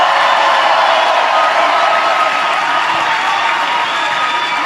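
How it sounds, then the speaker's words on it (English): A large crowd at a gathering for the Asantehene and the Asante kingdom claps and cheers steadily, a dense, loud and continuous wash of applause with no pauses. "I don't know whether you are clapping properly."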